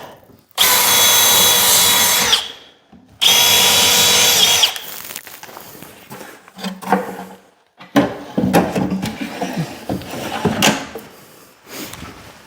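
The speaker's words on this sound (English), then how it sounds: "I need to actually drill out the back" A power drill whines in two long bursts, drilling through the back of a cabinet, followed by knocks, scrapes and clunks of handling wood close by.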